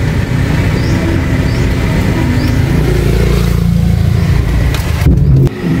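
A motorized tricycle engine running, a loud, steady close-up drone with a brief louder burst near the end.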